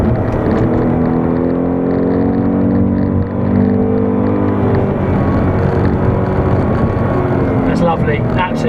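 A 2019 Ford Mustang Bullitt engine drones loudly from inside the car while driving, with a sustained, rising and falling note under continuous talking.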